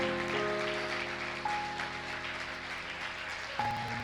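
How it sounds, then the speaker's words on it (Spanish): A church congregation applauds steadily, a sustained wash of clapping that continues throughout under faint organ or keyboard tones. "Dele fuerte el aplauso al Señor."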